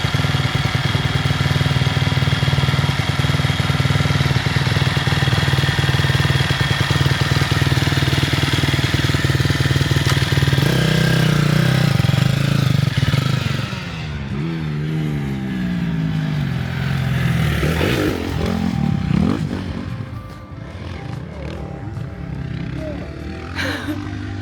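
Husqvarna motocross motorcycles run at a motocross shoot, with a loud, close engine drone that later shifts into rising and falling revs as bikes ride past, and voices at times.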